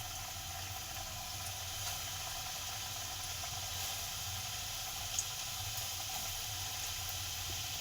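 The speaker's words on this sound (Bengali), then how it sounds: "আমি এই চিকেনগুলো আমি গরম তেলের মধ্যে দিয়ে দেবো।" KFC-style chicken popcorn, double-coated, fries in hot oil with a steady, even sizzling hiss that continues without pause, moderately quiet and with no talk.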